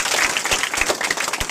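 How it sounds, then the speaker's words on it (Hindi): Applause from an audience at a village stage program in India: a brief, dense burst of many hands clapping, loud and continuous. "उनके लिए एक जोरदार ताली लगाइए।"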